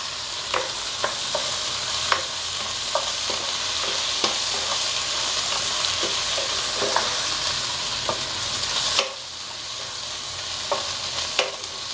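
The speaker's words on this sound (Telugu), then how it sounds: "ఒకసారి మళ్ళీ తిప్పుదామండి వేగిపోతుంది కొంచెం బ్రౌన్ కలర్ వస్తేనే బాగుంటుంది" Drumstick pieces frying in a pan for a country-egg and cherry tomato curry, a steady close sizzle broken by repeated scraping stirs and spoon clinks, with no talking.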